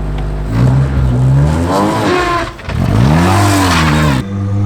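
A Formula 4 race car's engine rises in pitch as it reaccelerates, dips briefly around a shift, then climbs again, loud and close with a harsh buzzing tone.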